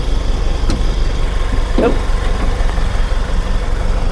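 A 3.0-litre diesel engine in a 2022 Isuzu D-Max Spark pickup idles close by, a low continuous rumble with a faint tick or two over the top.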